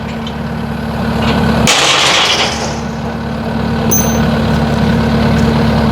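Close by on a farm at night, a tractor engine idles with a loud, steady low hum, broken by a brief rushing burst of noise shortly after the start before the even drone resumes.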